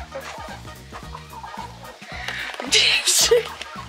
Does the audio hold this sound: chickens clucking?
yes